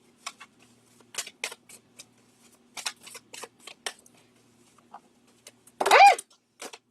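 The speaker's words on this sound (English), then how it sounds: "That's just me shuffling sloppily." Tarot cards are shuffled loosely by hand: scattered crisp riffles and slaps in irregular bursts, close by, ending in a louder flurry, with a faint hum underneath.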